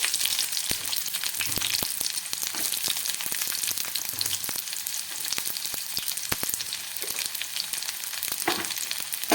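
Medium-sized onion frying in a kadhai, giving a continuous close crackling sizzle with scattered sharp pops and occasional stirring scrapes, no voices.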